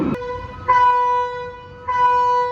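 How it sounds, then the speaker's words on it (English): A train horn at a Six Flags amusement park sounds two loud, sustained tonal blasts with a short gap between them, clear over outdoor crowd ambience. "Oh boy, we have a horn."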